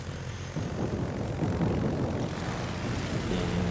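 Carrier aircraft engines in the World of Warships game make a continuous propeller-plane drone that swells and rumbles steadily, loud and unbroken.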